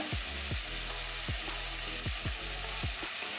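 Onion masala sizzling steadily in a pan over medium heat for a prawn and tomato curry, with a bright continuous fry and a run of regular low thumps from stirring.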